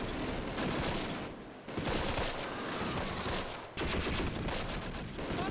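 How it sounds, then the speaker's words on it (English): Sustained MG42 machine gun fire in the WWII strategy game Close Combat: Last Stand Arnhem, a dense, continuous crackling barrage with rapid overlapping bursts, briefly broken by two short gaps before the heavy shooting resumes. "we're getting murdered by the MG42s"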